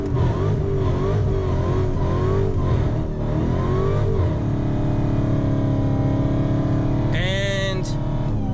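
A 2017 Dodge Charger Hellcat doing a burnout in a burnbox, its supercharged engine roaring loudly with rising and falling revs, then a sharp high-pitched squeal of spinning tires near the end.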